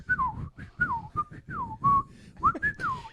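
A man whistles a lively tune while winking, a run of short bright phrases that slide and warble, close and fairly loud, with no talk over it.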